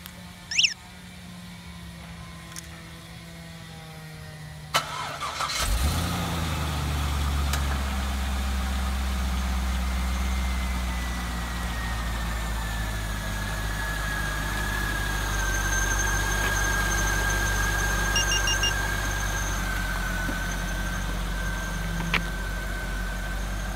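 A 2000–2005 Chevrolet Corvette starts by remote after a few short electronic chirps, then settles into a loud, steady engine idle rumbling close by for the rest of the clip.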